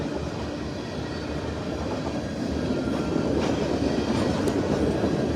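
CSX freight train K422, northbound at Mortons Gap, Kentucky, on the Henderson Subdivision, rolls past with a steady, moderately distant rumble and faint rhythmic wheel clatter on the rails. It sounds alone, with no voices.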